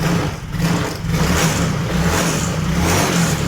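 Yamaha Mio scooter with a misfiring, stalling fault runs with a steady, close engine drone and uneven low pulsing as it revs, loud throughout with no talking.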